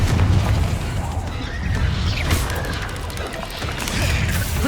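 Blasting Confringo spell explosions in the Hogwarts Legacy video game, a dense, continuous rumble of booms and crashes with no clear single impact, loud throughout with faint voice fragments underneath.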